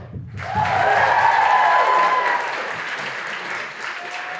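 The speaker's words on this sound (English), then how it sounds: "Y'all give them a round of applause." An audience breaks into loud, dense applause for a performing trio at a cultural expressions show. The clapping starts abruptly, holds strong, then eases slightly toward the end.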